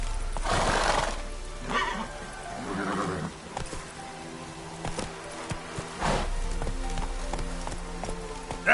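Horse in The Witcher video game neighing loudly and galloping with clip-clop hooves, whinnies bursting near the start and again around six seconds, hoofbeats pattering in between.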